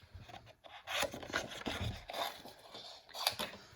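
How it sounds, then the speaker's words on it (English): Scissors fussy cut a stamped card piece close by, soft snips and paper rubbing in short irregular bursts with brief pauses between them. "So all I'm going to do now is fussy cut this out."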